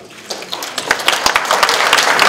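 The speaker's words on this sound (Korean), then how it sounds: "여러분 충남의 발전을 기원하는 큰 박수 다시 한번 이곳으로 보내주시기 바랍니다" Applause breaks out at a 2015 New Year gathering in South Chungcheong after a celebration rice cake is cut, sharp claps starting sparse and quickly swelling into a loud, full crowd ovation.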